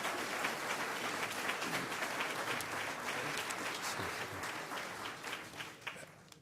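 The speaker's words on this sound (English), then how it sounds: "How about a round of applause for these four candidates?" Audience applause for four city council candidates at a forum, a crowd clapping steadily in a hall, fairly quiet and thinning toward the end.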